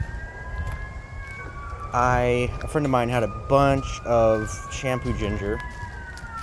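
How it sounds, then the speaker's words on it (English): A fire truck siren wails steadily from a distance, rising and falling, while a person talks close by over the top of it. "Sorry for the sirens, something's going on. Sounds like the fire truck."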